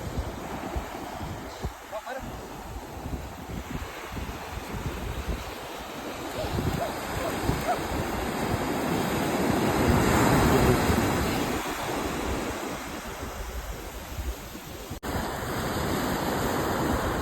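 Ocean surf at Moola beach in Lakshadweep, a steady broadband wash of breaking waves that swells around the middle and stays continuous throughout, with wind noise and faint voices mixed in.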